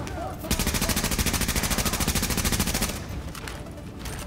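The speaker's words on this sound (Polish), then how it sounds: "Gdzie we mnie strzelasz" Automatic gunfire in Tom Clancy's The Division, a loud, close, rapid burst lasting a few seconds with an even machine-gun rhythm, followed by fainter scattered shots.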